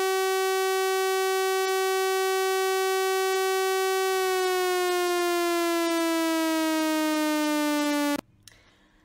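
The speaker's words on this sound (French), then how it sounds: "L'alerte nationale par sirène se manifeste par 3 signaux successifs d'1 minute et 41 secondes" A civil defense siren blares a loud, sustained tone that holds steady, slowly sinks in pitch, then cuts off abruptly.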